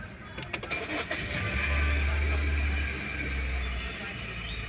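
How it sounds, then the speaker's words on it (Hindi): A Honda City sedan's engine cranks and catches, settling into a steady low idle rumble that swells and then holds, heard from close by with some background noise. "तो एक बार इंजन की नॉइज़ सुना देता हूँ मैं आपको।"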